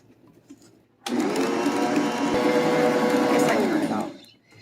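An electric mixer whirs steadily for about three seconds as it beats German chocolate cake batter, starting and stopping abruptly with a constant motor hum.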